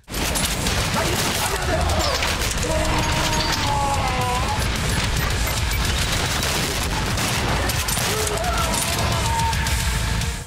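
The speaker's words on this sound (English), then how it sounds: "You can dual wield shotguns." Rapid, loud blasts from two shotguns fired at once in the shooter Trepang2 keep up a dense barrage, with crashes and combat noise filling the whole stretch. Brief tonal effects rise in between the shots.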